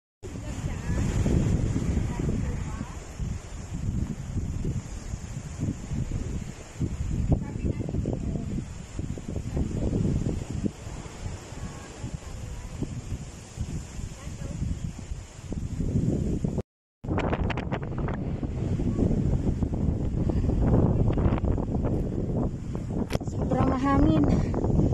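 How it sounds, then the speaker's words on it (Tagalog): Cold wind blowing across a mountain peak on Lantau, Hong Kong, buffeting the microphone in steady loud gusts with brief lulls, a short dropout midway, and a voice talking faintly now and then. "Hangin, malamig ang hangin."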